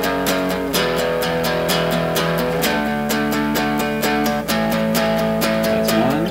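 An electric guitar plays a full 16-bar beginner rock riff, sharp rhythmic picked chords repeating steadily with loud, close, unaccompanied tone and periodic shifts in the chord pattern.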